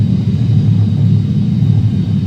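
A Boeing 737-800 accelerating down the runway for takeoff, a loud steady low engine rumble and roar holding throughout, with no talk.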